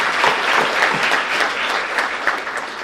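An audience claps together in a dense, sustained round of applause, steady and fairly loud throughout with no voices standing out.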